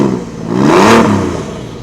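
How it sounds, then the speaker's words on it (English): Porsche 911 GT3 engine on an older car with a mechanical throttle cable, given a short rev that swells to a loud peak and settles back toward idle, close by with no talking. "Chris, give that a little rev."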